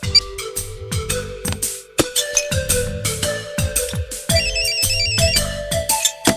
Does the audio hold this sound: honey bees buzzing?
no